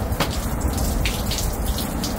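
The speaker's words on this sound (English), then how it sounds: "so it can drain up all the extra excessive water." Water rushes and splashes out of a cast iron 4250 GPH pump as it is tipped back to drain, a close, steady gush with a few sharper spills.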